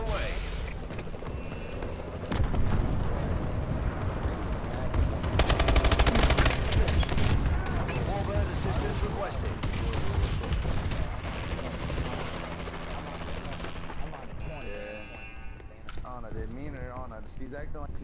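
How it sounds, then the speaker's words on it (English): Missile strikes and a bombing run in a multiplayer shooter game: continuous loud explosions and rapid gunfire, with a dense burst of blasts midway, heavy rumbling booms and game voice callouts over the top. "Friendly missile strikes inbound. Friendly bombing run clearing the way."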